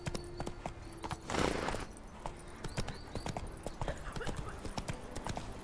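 A horse's hooves clip-clop in The Witcher 3 video game, steady close footfalls over ambient game noise with a brief louder whoosh near the start.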